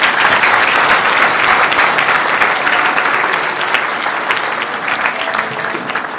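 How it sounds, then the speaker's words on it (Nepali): A church congregation breaks into loud, sustained applause praising the Lord, dense clapping that holds steady and then eases slightly toward the end. "प्रभुलाई महिमाको जोडदार ताली"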